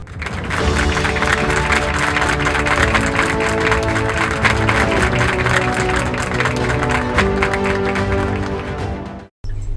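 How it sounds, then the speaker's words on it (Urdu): Audience applause at a Sindh declamation contest grand finale, welcoming the chief guest: dense, steady clapping fills the hall for about nine seconds over a sustained tonal background, then cuts off abruptly near the end. "آپ سب کی بھرپور تالیوں میں استقبال کیجیے"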